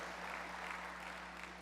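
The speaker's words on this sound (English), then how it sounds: "Give yourselves a round of applause." An audience in a conference hall applauds during a general session at a financial services company event, a brief, steady burst of clapping over a constant low electrical hum.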